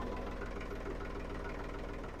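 A tractor's diesel engine idles steadily at close range, a low rhythmic chugging that holds constant throughout with no voices.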